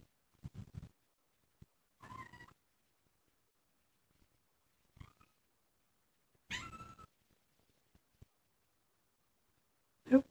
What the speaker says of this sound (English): It's our salon kitty.